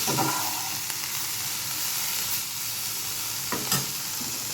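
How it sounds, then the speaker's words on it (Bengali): Cauliflower fries in a pan with a steady, even sizzle, interrupted by a couple of short scraping clicks of stirring close by, with no voices. "তো এখন আমি একটু ফ্রাই করে নেব।"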